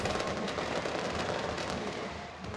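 Fireworks burst over a high school football game at Mesa High School, a dense, continuous crackle and rumble of explosions packed together without pause, loud and close throughout.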